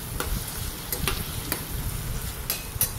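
Turmeric-seasoned ingredients frying in a pan for a brinjal, tomato and green chili chutney, a dense, even crackling sizzle up close with a few light taps from a utensil, no one speaking.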